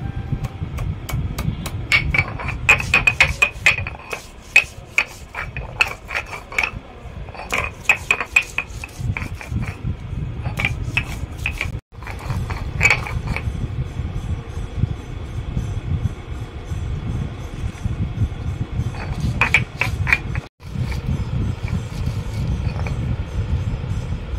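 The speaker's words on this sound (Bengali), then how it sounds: "এখানে আছে আদা, লঙ্কা, রসুন সব বাটবো।" Ginger, chili and garlic ground on a traditional shil-nora stone, a steady run of close scraping and knocking strokes with sharp clacks as the stone pestle rocks and slides, continuing throughout with only brief pauses.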